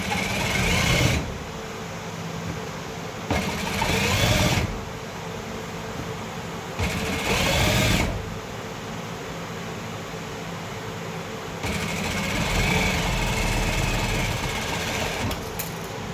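A sewing machine stitches the edge of a lining strip in several steady, loud runs of rapid mechanical whirring, separated by brief lulls as the fabric is repositioned.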